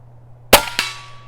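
A .22 pellet from an Umarex Origin air rifle fires with a sharp crack, followed a fraction of a second later by a metallic smack on the target that rings briefly afterward.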